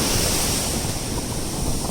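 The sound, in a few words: ocean waves breaking on the shore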